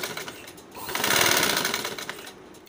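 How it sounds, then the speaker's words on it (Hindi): A sewing machine stitches the second leg of a small boy's pajama, whirring up into a steady close run of stitches that swells in the middle and then slows and taps to a stop. "यह अब मैं इसके दूसरे पांचे की सिलाई लगा रही हूँ।"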